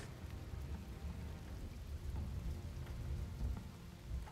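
Steady rain and rumbling thunder in the stealth video game Shadow Tactics, a continuous dense downpour with low storm rumble that holds evenly throughout, with no voices over it.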